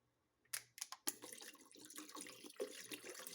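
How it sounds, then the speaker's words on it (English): Bottled water pours into a pot of browned beef stew after a few brief clinks, then a steady close splashing stream runs for a couple of seconds. "I'm going to add some more water to this."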